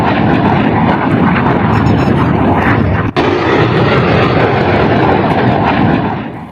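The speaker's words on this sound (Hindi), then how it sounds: "पाकिस्तान का लड़ाकू विमान आप देख रहे हैं, ये जो पेड़ के ऊपर आपको जाता नजर आ रहा है, ये पाकिस्तानी फाइटर है।" A Pakistani fighter jet passes overhead above trees, its loud, continuous broadband engine roar filling the whole stretch with one brief dip midway before fading slightly at the end; no voices.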